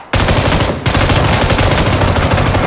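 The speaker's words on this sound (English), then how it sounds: "He's shooting at me and Avery." Loud, sustained automatic fire in a multiplayer shooter video game, a continuous rapid stream of close gunshots with only a brief break before it resumes.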